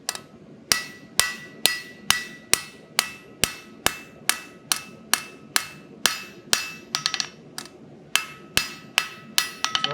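During blacksmith forging, a hammer taps hot steel in a steady run of sharp, ringing blows, about two per second, some with quick bounces, loud and close with no talk.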